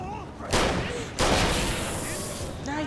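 Two loud, close gunshots from a handgun in the Alan Wake video game, fired about three-quarters of a second apart, each a sharp broadband blast with a ringing tail, then a quieter mechanical click near the end.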